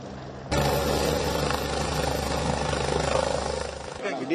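A helicopter lifts off from Belagavi, its rotor and engine roar starting abruptly and holding loud and steady for several seconds before cutting off, with voices faintly underneath.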